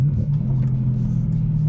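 Low, steady rumble from a Mercedes CLK 63 Black Series with a naturally aspirated M156 6.2-liter V8 and swapped manual gearbox, a brief even drone heard from inside the car.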